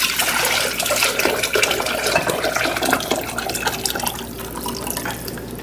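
Beef stock pours steadily from a measuring cup into a pan of mushrooms, a continuous splashing liquid stream that stays fairly loud throughout with no talking.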